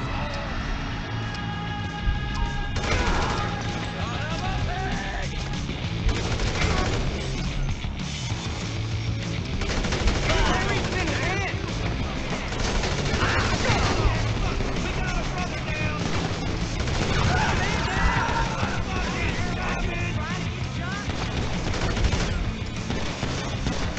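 Gunfire from a gunman in GTA 5 during the Trevor Philips Industries mission, with repeated bursts of shots and engine and game noise continuing underneath for the whole stretch.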